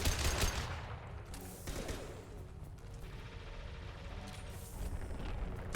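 Assault rifle fire from the video game Mass Effect 2 crackles in dense, rapid bursts, with booming impacts and explosions layered in a loud, chaotic battle that stays busy throughout.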